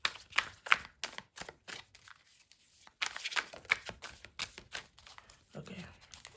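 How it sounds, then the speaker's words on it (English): Tarot cards riffle and slap in quick shuffling bursts, crisp close-up flutters with a short pause in the middle, a brief voice near the end. "Sorry, just getting a quick shuffle."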